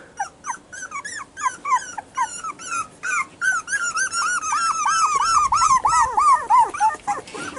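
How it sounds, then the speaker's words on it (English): Young cockapoo puppy on a farm, about four weeks old, making a rapid run of high squeaky whimpers that build into wavering little howls, close, loud and continuous. "Kiesel, are you trying to howl down there, huh? Are you trying to howl"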